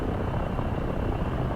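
Simulated Bell 47 helicopter in DCS World throttling up to about 78% rotor RPM, a steady loud rotor and engine drone that holds continuously without talk.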